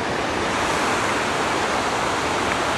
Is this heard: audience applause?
no